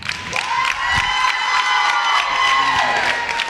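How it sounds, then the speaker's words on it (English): Loud wrestling arena crowd cheering and shouting during a brawl on a Championship Wrestling TV show, a sustained roar with whoops throughout. "I don't know why they're cheering"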